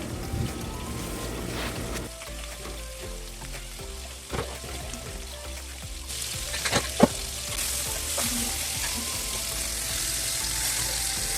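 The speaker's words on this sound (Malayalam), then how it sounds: "ചിക്കനും കൂടി ഒന്ന് ഫ്രൈ ചെയ്ത് കൊടുക്കണം അപ്പോൾ ഇതാ വെളിച്ചെണ്ണയിലേക്ക് നമ്മൾ ഇട്ട് കൊടുക്കുന്നുണ്ട്" Chicken pieces fry in hot coconut oil in a home kitchen, with a steady close sizzle and bubbling crackle plus occasional stirring clinks, loud and continuous.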